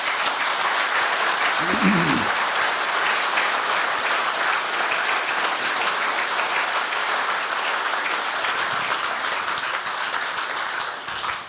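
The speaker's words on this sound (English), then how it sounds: "Big round of applause for our speakers this evening." An audience applauds the speakers after an evening talk on the golden age of BOAC flying. Sustained, dense clapping from many hands lasts over ten seconds with a brief low murmur early on, then tapers at the end.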